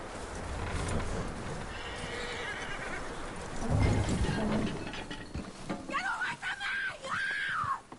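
A horse in the Red Dead Redemption video game whinnies loudly and repeatedly over clip-clopping hooves and rattling tack, with a shrill neigh rising toward the end.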